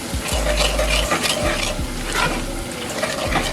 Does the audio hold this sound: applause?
no